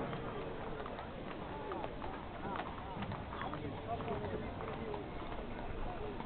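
Horses clip-clop at a Santa Caterina fair parade in Galatina, with steady scattered hoofbeats under a dense, continuous crowd murmur and a public-address voice; the hooves stay moderately close but are partly masked by the surrounding noise.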